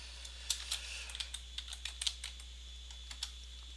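Light, quick clicks of typing on a computer keyboard, a short irregular burst of keystrokes close up over a low steady hum.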